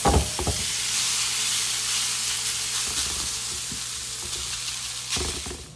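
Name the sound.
potatoes frying in a preheated pan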